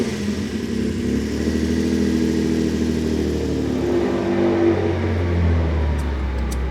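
Ferrari-engined Fiat Dino Spider with a poorly running middle carburettor, driven on the road: a loud, steady engine drone with rising revs, close and continuous, no voices.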